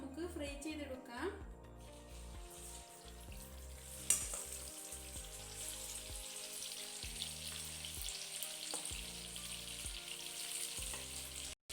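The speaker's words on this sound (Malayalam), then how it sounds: "അതുപോലെ ബാക്കിയുള്ള ചിക്കനും കൂടി നമുക്ക് ഫ്രൈ ചെയ്തെടുക്കാം." Chicken pieces deep-fry in oil for a restaurant-style chilli chicken, a steady sizzling hiss with occasional stirring clatter and a sharp clink partway through; a voice talks over the frying and background music plays.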